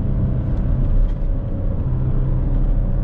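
A Hyundai Azera V6 rated at 245 hp, with 100,000 km on it, is driven with the engine slowing the car, a steady low rumble and road roar that stays loud and even from inside the cabin.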